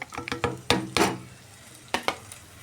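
Chopped onions frying in about three teaspoons of hot oil in a pan, with a soft steady sizzle under a few loud scrapes and knocks of a spoon stirring against the pan, close up.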